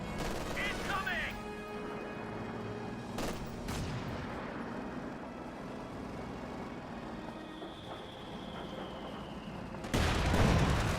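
Battle gunfire in the Company of Heroes 2 strategy game: a dense, continuous rumble of distant shots and bursts with occasional sharper cracks, building to a louder blast near the end, with game voices over it.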